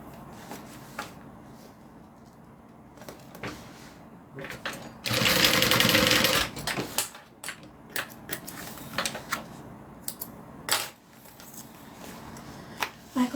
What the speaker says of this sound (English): So I'm going to sew it down on the panel like that, and then same thing for the other side.